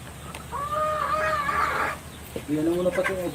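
Chickens clucking and squawking close by in two bursts, loud and agitated, with faint background noise between.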